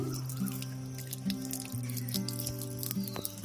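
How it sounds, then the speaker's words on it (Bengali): A pet drinks from a running tap, with a quiet steady trickle of water and soft dripping and lapping sounds close by. "এবার আমি কলটা খুলে দিলাম ও কি সুন্দরভাবে জল খাচ্ছে"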